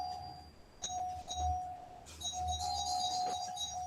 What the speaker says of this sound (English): someone is ringing your doorbell